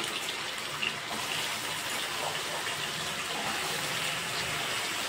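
Cut potatoes dropped into hot oil for aloo rice send up a steady, loud broadband hiss that holds evenly throughout, with no talk over it.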